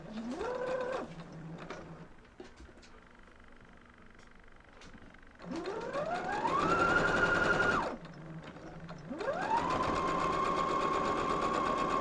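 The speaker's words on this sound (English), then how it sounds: "Just keep sewing and sewing some more" A sewing machine stitches a large 80 by 96 quilt, its motor whirring up in pitch in two long sustained runs with quieter pauses and clicks between.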